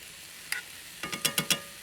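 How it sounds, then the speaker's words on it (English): A spoon stirring a sizzling dish in a pan, giving a soft scrape and then a quick run of four or five light clinks against the metal, close and quiet over a low hiss of frying. "I'm going to give that a stir."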